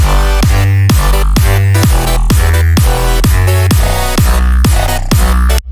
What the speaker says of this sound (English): And I have a layer of claps on top.